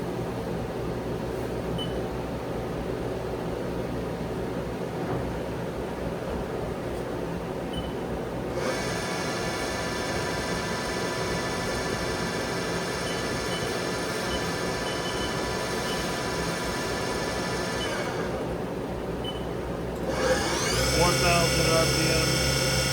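The spindle of a 2008 Haas GT-10 CNC lathe turning center runs at 2000 RPM: a steady tonal whine over a machine hum, ending with a sharper, higher tone.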